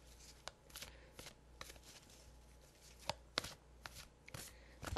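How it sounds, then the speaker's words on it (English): Cards riffle and snap softly in quick irregular bursts, fairly quiet and close, with no talking. "So, okay, so I'm going to shuffle"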